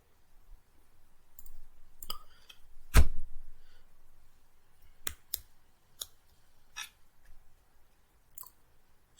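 Sharp computer mouse clicks sound in a quiet room, a handful of separate dry taps spaced irregularly with one louder click early on.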